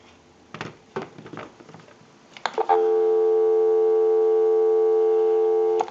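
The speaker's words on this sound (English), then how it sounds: "Go ahead and give you some dial tone." Steady telephone tone on a phone line sounding loud and continuous for the last few seconds, preceded by a few brief clicks and soft handling noises.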